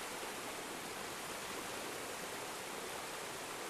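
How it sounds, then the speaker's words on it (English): Steady broadband rush of a waterfall from the bottom of the falls in the video game Fe, a constant even wash of water noise with no talk. "It's the bottom of the waterfall."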